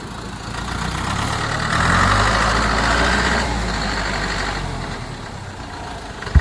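A vehicle engine idles and revs steadily as it is moved out along a roadside, a close low rumble swelling briefly then settling, ending with a sharp knock.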